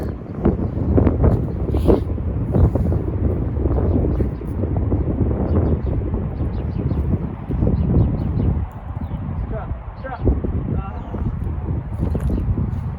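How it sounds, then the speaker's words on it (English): Gusty wind buffets the microphone on a disc golf course, a loud, rough, continuous rumble that rises and falls, with someone talking over it and faint bird calls in the distance. "Wind is not doing me any favors here."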